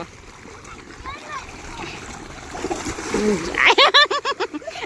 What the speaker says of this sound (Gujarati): આર્યન ને પાણી ઉડાડ્યું